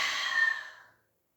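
A single long, airy inhale during a slow Pilates mat exercise, close and clear, lasting about a second before fading into silence.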